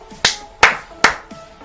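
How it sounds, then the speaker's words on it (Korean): Four sharp hand claps, close and evenly spaced, heard alone during a late-night live baccarat stream. "박수 박수 미리 박수 주세요"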